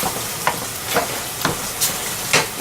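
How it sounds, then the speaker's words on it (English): Ground turkey simmers with salsa in a pan as a spoon stirs in rhythmic scraping strokes, about five evenly spaced swishes over a soft constant sizzle, close and without voices. "like half of the jar of salsa, and again I'm gonna stir it in"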